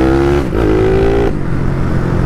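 A Honda Twister motorcycle with a pirate-tuned 79mm big-bore engine rides through city streets, its loud, close exhaust droning steadily and shifting pitch once as the throttle changes.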